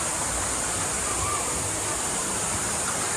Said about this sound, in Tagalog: Running water siya.